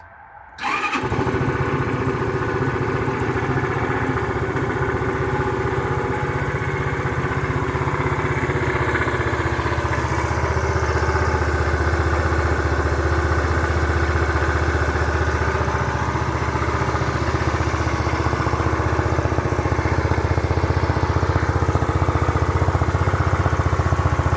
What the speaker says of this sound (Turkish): Orijinal egzoz sesi bu şekilde.